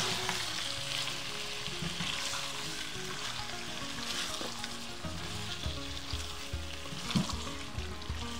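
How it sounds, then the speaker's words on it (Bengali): Chicken curry frying in a pan, Old Dhaka style, with a continuous loud sizzle and scraping stirring strokes throughout, close up and with no talking. "একটু নেড়ে দিচ্ছি।"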